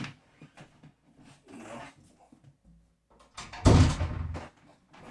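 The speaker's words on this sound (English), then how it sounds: "let me close the door" Indoors, a door swings shut with one solid, fairly loud thump near the end. Before it, there are quieter shuffling and handling sounds.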